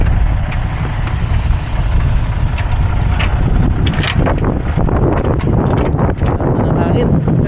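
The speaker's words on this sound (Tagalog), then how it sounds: "Ang hangin." Strong wind gusting hard across the microphone in bad weather where trucks are stuck in mud, a steady loud roar with rumbling buffets and scattered sharp bursts throughout.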